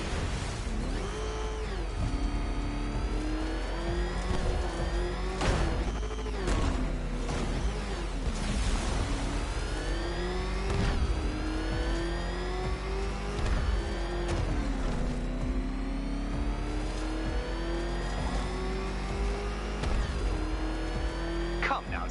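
The Batmobile in Batman Arkham Knight, an armored game car, revs and roars while driving, its engine pitch rising and falling continuously with occasional tire squeals, loud and close throughout.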